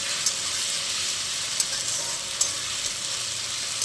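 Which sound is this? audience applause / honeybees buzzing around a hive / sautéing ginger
sautéing ginger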